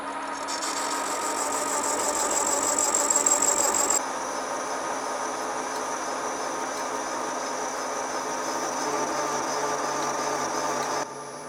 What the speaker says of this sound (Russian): Можно токарить.